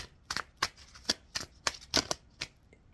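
Oracle cards are handled and shuffled before drawing, giving a quiet series of crisp, rapid riffling bursts in an uneven rhythm, close by and with no talking.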